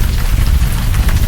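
Rain falls outdoors during a backyard grilling of sausage and peppers, a loud, close, continuous patter and hiss with heavy low rumble, without talk.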